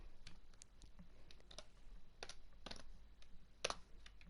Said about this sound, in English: I can open the chat. And if I do that, I can type in the chat.